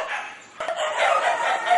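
Rescued dogs bark at kennels at an animal rescue centre in the Philippines, several short yips and barks overlapping at a moderate distance in a busy, echoing space.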